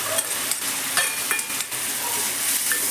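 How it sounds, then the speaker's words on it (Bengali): Grated tomato paste is added to onions already fried until reddish in a pan while a prawn dish is being cooked. The pan gives a loud, steady sizzle and frying hiss, broken by a few sharp stirring scrapes and spatters, with no voices. "যেমন পেঁয়াজটা আমার লাল লাল করে ভাজা হয়ে গেছে, এর মধ্যে আমি দিয়ে দিচ্ছি টমেটো বাটা"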